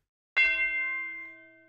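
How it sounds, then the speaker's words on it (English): A single struck tubular bell tone from a synth preset rings out clearly, with a bright attack and a long, slowly fading resonant tail. "it's the tubular bell preset. It sounds like this."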